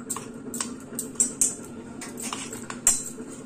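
A spoon clinks and scrapes against a bowl while ghee-fried coconut and poppy seeds are stirred into semolina garelu batter, with a few sharper taps standing out over a soft, steady background.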